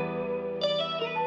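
Sustained electric guitar notes ring out through an aged tape delay preset with a wobbly, echoing delay and spacious reverb, smooth and warm, played alone.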